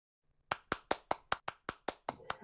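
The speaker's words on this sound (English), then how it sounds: "a round of applause for our speakers today." Crisp, evenly spaced hand claps, about ten in a row at a steady rhythm, close and fairly loud, marking applause for the speakers at the end of an XR conference day.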